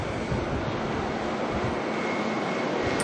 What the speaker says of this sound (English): Emirates is on its way out, EK449, the A380 that's going to make its way back to Dubai.